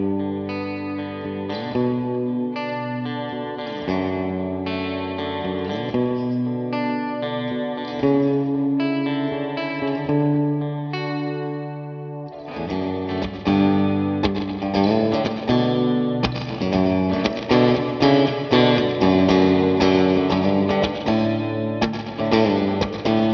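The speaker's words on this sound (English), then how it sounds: "Really gets those spring reverb sounds" Electric guitar chords and picked notes through a Mojohand Effects Dewdrop reverb pedal, drenched in splashy spring-type reverb, each strum trailing a wet, bouncy decay, played continuously.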